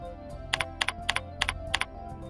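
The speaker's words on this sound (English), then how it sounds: "Next, type the hub password." Quiet, crisp computer keyboard keystrokes tap out a password in about seven evenly spaced presses over a faint steady background hum.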